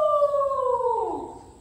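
A person's voice imitates a dog howling, as at a children's camp singalong: one sustained, wavering tone that slowly falls in pitch and fades, heard alone with no other talk.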